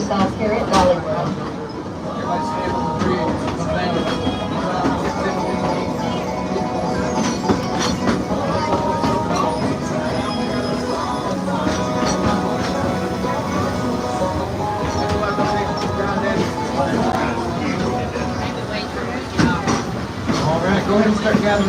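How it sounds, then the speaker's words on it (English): The Dollywood Express, a steam train at the Dollywood theme park, rolling on rails: a steady rumble with repeated clicking and clanking, heard from aboard, while a voice talks over much of it. "we would like to remind you to please remain seated until the train has come to a complete stop"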